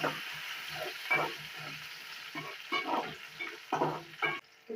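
Curry leaves sizzle and crackle in hot oil with onions in a pan, stirred in bursts of scraping, spattering strokes, fairly close and loud, with no talking.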